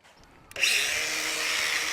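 An angle grinder cuts through a metal rod that supports the electrode of a chimney fitting, starting abruptly after a faint lead-in and holding a steady, loud, close whine to the end.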